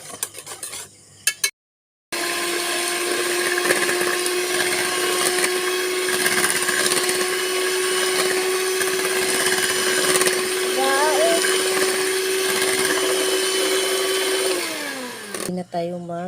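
A mixer blends a Cream-O ice cream mixture of crushed biscuit in a steady, loud motor whir that runs continuously for about twelve seconds before winding down, with brief handling noise at the start.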